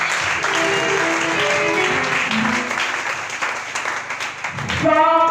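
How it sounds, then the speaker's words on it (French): Church congregation applauding and cheering for God during a women's morning service, steady clapping and crowd noise throughout with voices mixed in and a burst of louder sound near the end. "Est-ce que nous pouvons acclamer pour notre Dieu?"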